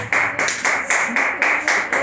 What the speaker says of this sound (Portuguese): Pode se assentar e exaltar o Senhor com as palmas